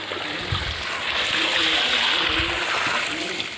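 Water from a single bucket poured over newly planted sweet tamarind (Manila tamarind) in a garden, a steady broad splashing and trickling wash lasting throughout, moderately close with faint background noise.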